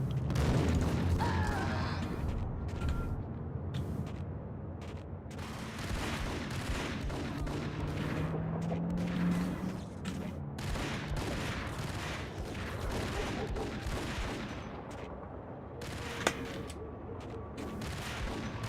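Rapid, overlapping gunfire in the PC shooter Max Payne, including Desert Eagle pistol shots, fills the whole stretch as a dense, steady barrage with booming impacts and no talk over it.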